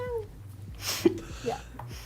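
A person's voice imitates a cat with short, high meow-like sounds, two or three brief squeaky calls over a low background hum and some other vocal noises.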